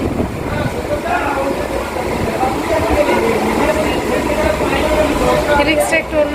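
A nearly empty passenger train runs along the line, producing a continuous, even rumble and rattle heard from inside the carriage, with faint background voices mixed in.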